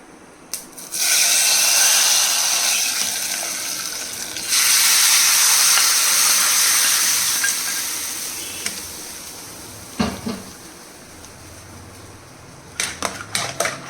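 Mustard seed tempering in hot oil poured onto cooked jackfruit for a Kerala-style dish, setting off a loud, broad sizzling hiss in two long surges that slowly die away, followed by a few sharp clinks of a utensil.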